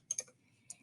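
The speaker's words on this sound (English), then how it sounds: "I'm going to type it in the chat" A few quick keystrokes on a computer keyboard, two sharp taps close together, then a single later tap, faint and alone in a quiet room.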